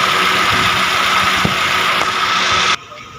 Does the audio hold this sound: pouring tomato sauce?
no